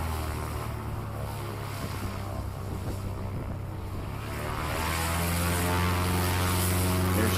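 A STOL propeller aircraft at a Moses Lake STOL competition powers up for takeoff, its steady droning engine and prop hum swelling louder over the last few seconds, heard from nearby with no talk.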